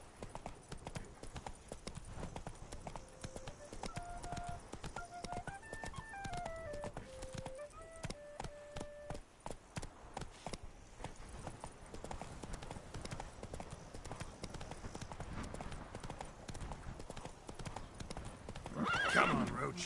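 Roach, a horse in The Witcher 3: Wild Hunt – Blood and Wine, gallops with steady rapid hoof clip-clops throughout, joined by whinnies and a musical tone, with a sharp burst near the end.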